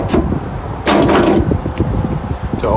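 A camper screen door on a 2017 Forest River Wolf Pup 16BH travel trailer is tugged open, giving a loud close rattle and thump followed by scraping and clicking of the frame.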